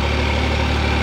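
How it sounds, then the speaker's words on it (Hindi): Massey Ferguson 9500 Smart Series tractor engine running steadily while pulling a super seeder in a field, a loud, continuous low diesel drone with even vibration and no talk. "ट्रैक्टर की आवाज़ भी नहीं बदली।"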